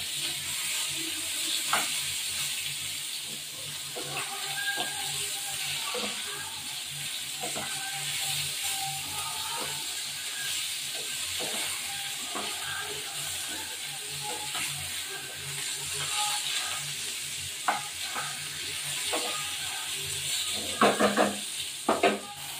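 Pointed gourd (potol) frying in oil in a pan for a Bengali hilsa-head and bottle gourd dish, with a steady close sizzle and scattered clinks and stirring scrapes, a short burst of utensil knocks near the end.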